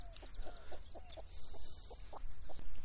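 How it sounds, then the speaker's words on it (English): A mother hen clucks in a steady series of soft, short notes close by, with faint high cheeping of days-old chicks and outdoor background noise on a farm in Thailand. "The old mother hen here, she's got her chicks out now."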